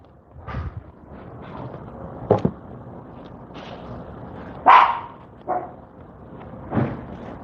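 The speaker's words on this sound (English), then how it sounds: "It's my dog." A pet dog indoors gives several short, sharp barks spaced across a few seconds, loudest in the middle, against a quiet room with light handling noise.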